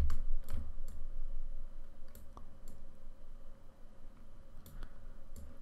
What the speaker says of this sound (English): holding down Alt and clicking on the layer mask to check it